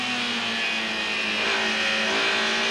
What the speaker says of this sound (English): Harvey third and Bristow fourth in the 2 blue Sierras are lapping tailenders